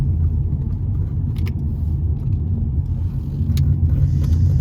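Car driving along the A351 near Corfe Castle, a steady low road rumble and engine drone from inside the vehicle, continuous and fairly loud with a few faint higher ticks, no talking.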